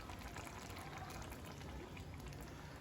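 Tamarind water poured into a simmering kovakka theeyal gravy, a continuous quiet bubbling and splashing pour without any talk.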